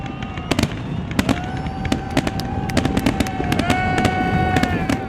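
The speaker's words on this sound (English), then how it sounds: "fireworks explode over the Marina Channel" Fireworks bursting over the ocean at Marina del Rey's Marina Channel, a steady string of sharp cracks and booms at irregular intervals, with crowd murmur and a faint whistle underneath.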